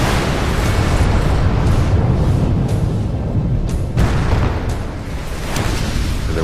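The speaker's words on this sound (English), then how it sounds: "There was a big explosion in the size of a large nuclear explosion." A huge airburst explosion, comparable in size to a large nuclear blast, rolls out as a loud, sustained roaring rumble with crackling bursts over six seconds and no voices.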